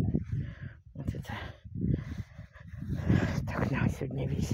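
Dogs bark and pant near a burning pine forest after shelling, loud and close, with a person talking over and between the barks.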